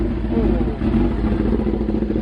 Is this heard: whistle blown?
no